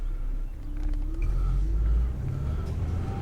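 A car engine rumbles low and steady as the vehicle pulls away, a modest rise in throaty drone with a faint tonal whine, heard from inside at moderate volume.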